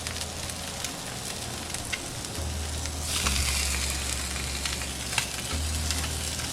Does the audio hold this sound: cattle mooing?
no